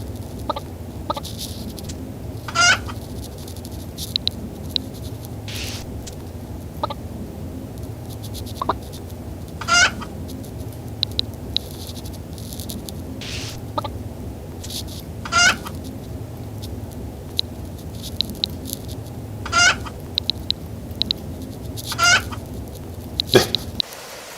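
Blocky chickens in a block-building video game cluck in short, bright bursts every few seconds over a low, constant background hum, fairly near and clear, no voices.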